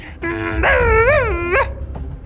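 A single drawn-out cartoon dog-like yelp that rises and falls in pitch, loud and close, sounding more like a whining howl than short barks.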